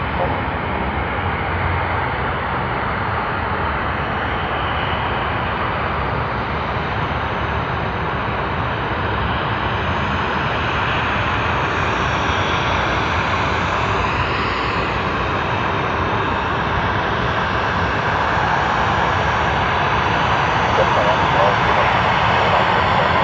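A Qantas airliner in Spirit of Australia livery roars steadily and loudly at Sydney Airport, its broadband jet noise holding for the whole stretch and swelling slightly toward the end, with people talking over it.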